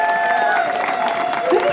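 Live concert audience at an outdoor show in Degerby applauds steadily, a dense wash of clapping with some cheering throughout, while voices carry over it.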